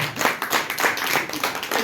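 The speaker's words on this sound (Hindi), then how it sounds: "जोरदार तालियां बजा दीजिए।" An audience at a live business meeting claps at close range in a quick run of distinct, irregular hand claps that last just under two seconds.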